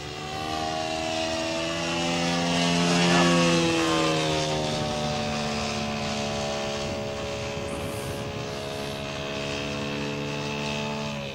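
A 40% scale Jungmeister aerobatic RC biplane engine drones steadily in flight, a loud continuous buzz with harmonics that swells and dips slightly in pitch as the aircraft passes, heard alone without talk.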